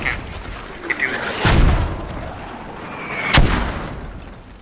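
Mortar fire in the video game Operation: Crazy Horse, SquadOps, lands as two loud booming blasts a couple of seconds apart over a low rumbling battlefield background.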